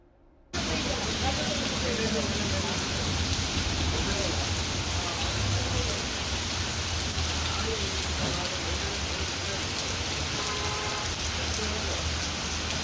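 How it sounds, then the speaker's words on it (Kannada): Heavy rain during a cyclone-driven downpour, a dense, steady roar of drops on surfaces that holds evenly loud for the whole stretch after a brief quiet start, with faint talk in the background. "ರಾಜ್ಯದ ಹಲವೆಡೆ ಭಾರೀ ಮಳೆಯಾಗಿದೆ"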